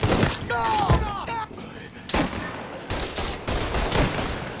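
Bursts of gunfire in the video game Mafia III, sharp repeated shots and heavy impacts in uneven clusters, with brief gaps between volleys.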